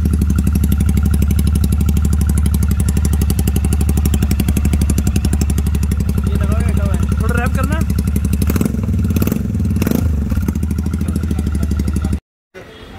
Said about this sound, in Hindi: अब हम आपको एक स्पेशल आवाज़ सुनाएंगे जिसमें एक एग्जॉस्ट लगा होगा